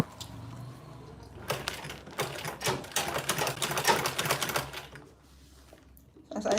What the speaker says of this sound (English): I'm just sewing with the foot of my machine at the edge